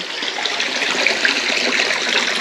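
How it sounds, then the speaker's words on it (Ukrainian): Water pours and splashes steadily in an old washhouse, a constant, close, hissing rush with no pauses. "На відміну від інших тут вода тече."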